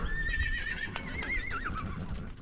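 A horse whinnies in a long, wavering call over the steady rumble of a herd being driven, hooves thudding continuously close by.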